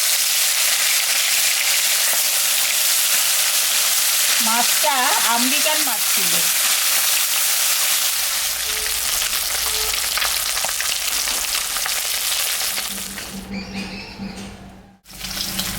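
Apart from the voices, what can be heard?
frying American fish in oil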